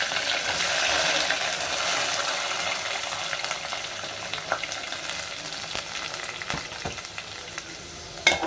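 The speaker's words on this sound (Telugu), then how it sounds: "వీటిని బాగా ఫ్రై చేసుకోండి ఇదిగోండి ఆనియన్స్ బాగా ఫ్రై అయ్యాయి" Green chillies, curry leaves and onions frying in hot oil, a steady close sizzle with stirring scrapes and a few clinks of the spoon against the pan, loud at first and easing slightly toward the end.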